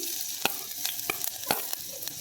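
Chopped ginger and green chili fry in a little oil in a hot pan while making Korean ramen: a close, soft sizzle broken by sharp scraping and tapping strokes of a spatula, with no talking.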